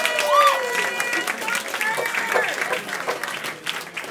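A concert crowd at a live band show claps and stomps, with a steady mass of applause and thuds, plus cheering and talking voices mixed through it.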